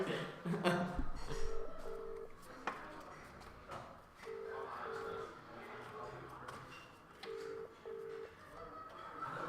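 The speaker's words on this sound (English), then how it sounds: "Let's see if they answer the phone." Telephone keypad tones sound in three short pairs of beeps, spaced evenly across the stretch, over a noisy room with talk and background chatter during a live museum quiz.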